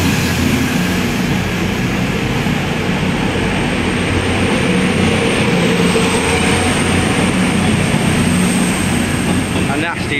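Loud, continuous rumble of a South West Trains service leaving Exeter St Davids station close by, with a steady roar and faint rhythmic clatter throughout.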